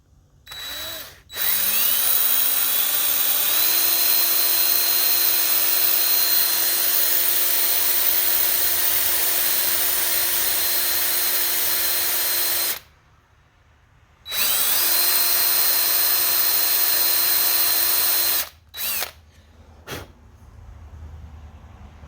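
A cordless power screwdriver with a built-in light, used on a Triumph Spitfire thrust washer repair, whines loudly at a steady pitch for about ten seconds, pauses, runs again for several seconds, then gives two short bursts.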